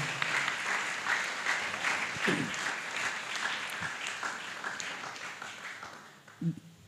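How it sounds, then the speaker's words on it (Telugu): A congregation at a Sunday church service bursts into loud, sustained applause, with dense clapping that holds steady before tapering off near the end. "అందరూ అసలు గట్టిగా చప్పట్లు కొట్టి దేవుని మహింపరుద్దాం."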